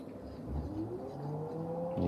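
An electric pottery wheel whirs into motion, its hum rising steadily in pitch as it spins up under a ceramic mug lid being trimmed, close and continuous.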